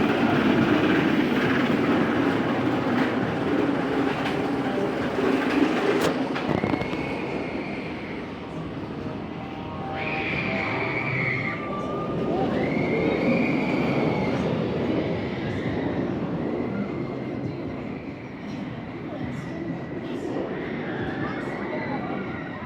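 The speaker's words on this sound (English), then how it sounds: "Let's go on Nemesis. Crawling up that lift hill." The Nemesis Reborn roller coaster at Alton Towers climbs its lift hill with a steady rumble and rattle of the train, metallic squeals now and then, and people talking throughout.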